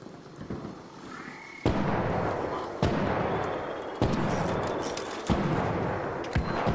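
Repeated gunfire in the ARC Raiders video game as a player shoots at wasp enemies: a few sharp, loud reports spaced over a couple of seconds each, set over a steady dense rumble of game noise.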